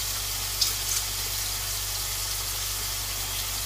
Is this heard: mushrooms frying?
yes